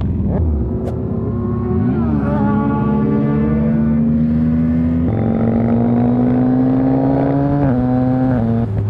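A tuned 2024 Harley-Davidson Fat Bob motorcycle with a loud engine runs continuously up close, a deep steady rumble that climbs in pitch a few times as the throttle opens.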